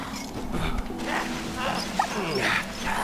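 Dog whimpering and yipping in the video game Valiant Hearts, with short soft cries over game music and ambience, while a voice talks at times.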